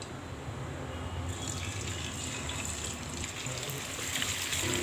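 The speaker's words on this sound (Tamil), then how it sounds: "இப்போ எண்ணெய் சூடானதும் நம்ம ஊற வச்ச துண்டங்களை அதில் போட்டு ஃப்ரை பண்ணிடலாம்." Marinated chicken pieces for a North Indian style chicken masala fry in about 100 ml of hot oil, giving off a steady, continuous sizzling hiss.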